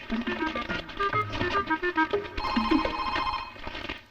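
A telephone rings in a steady electronic pattern, with indoor voices and movement around it.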